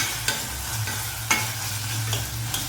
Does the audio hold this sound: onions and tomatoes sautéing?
yes